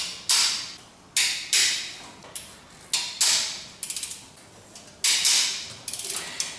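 Sharp metallic clicks and ratcheting bursts of a wrench loosening screws on a car, arriving in about eight separate quick strokes, each tailing off, close and fairly clear with no talk.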